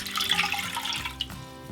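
Water poured into a cooking pot on the stove, about 600 ml, a steady splashing gush with bubbling that fades slightly toward the end, close and alone.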